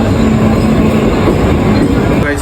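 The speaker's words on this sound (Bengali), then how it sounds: "আমাদের ট্রেনও চলে এসেছে পাঁচ মিনিট পর পর ট্রেন" A train pulling into a station, loud rumbling wheels and carriage noise filling the whole moment close by, with a faint squeal near the end.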